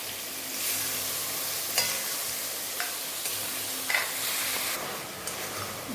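Tomato frying in oil with ginger and green chilli for a Bengali pointed gourd dish, a steady broadband sizzle with a few sharp stirring scrapes of the spoon, close and continuous with no talking.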